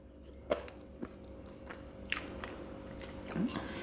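Someone chews a crunchy chocolate mug cake with almonds up close, with soft bites and scattered crunches over quiet background hum.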